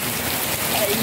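Loud, steady heavy rain pouring down in Dubai, a continuous dense hiss of drops hitting surfaces.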